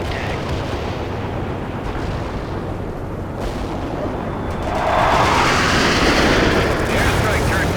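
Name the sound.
cluster bomb airstrike explosions in video game World in Conflict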